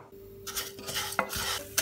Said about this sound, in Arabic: بحط شعيرية وبقليهم على الغاز